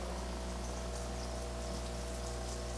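An aquarium airstone running at low flow sends up a steady stream of bubbles, a constant soft fizzing and bubbling over a low pump hum, close and unbroken, with no voices.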